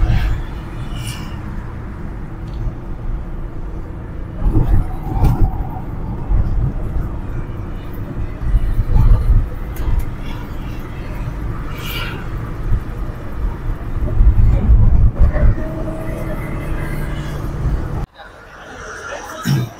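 Heavy traffic crawls along a busy hill road near Nashik, with engines rumbling loudly and vehicles rushing past nearby in a steady, dense stream, while a person speaks over the noise.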